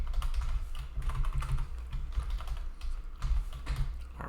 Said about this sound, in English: I don't have to keep typing this